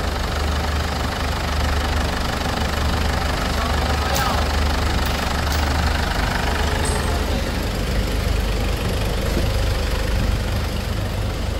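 A Ford Everest engine runs with a rough, vibrating, knocking drone, loud and continuous at close range, with a few brief sharp clicks partway through and no talking.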